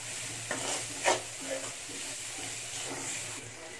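Onions frying in a small splash of oil for an egg roast, a steady soft sizzle with a few scraping stirs, moderately close and without talk.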